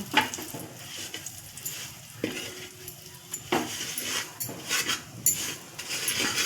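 A ground soaked fenugreek mixture sautés in ghee in a pan, with soft sizzling, stirring scrapes and occasional utensil clinks against the vessel, fairly quiet and close.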